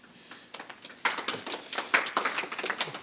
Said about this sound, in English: You got some applause on that one